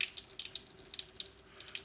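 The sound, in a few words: water poured into a strap cleaning bottle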